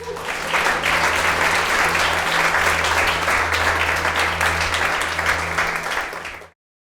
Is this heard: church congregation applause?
yes